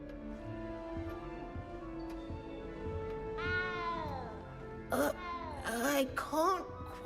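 A cat in the video game Hogwarts Legacy meows several times in the second half, giving drawn-out rising and falling cries with a quick run of calls at the end, over a steady low game backdrop.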